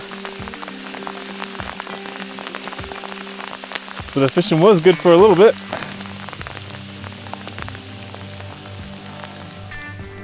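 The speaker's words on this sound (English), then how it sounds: "We are in a hailstorm." Hail patters steadily on the ground and gear at a high mountain lakeside during a backpacking fishing trip, a dense, continuous hiss of impacts; someone speaks briefly partway through.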